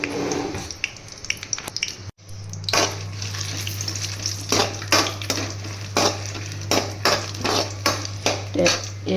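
Dried red chillies crackle in freshly poured oil for a chutney, a steady sizzle rising after a brief pause, punctuated by repeated spoon-against-pan scrapes and clinks close by.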